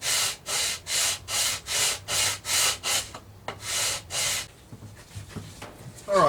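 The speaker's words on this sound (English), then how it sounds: "I'm just going to try and sand this edge with this sort of a straight edge here" A straight-edge sanding block rubs the edge of a wooden guitar top in about ten even back-and-forth strokes, close and rhythmic, then stops into quieter shuffling.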